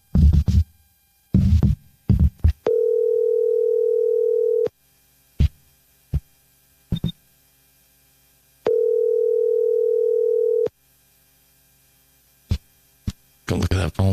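Outgoing telephone call with two long ringback tones separated by a pause, clear and steady, surrounded by brief clicks and short bursts of nearby voices and handling noise.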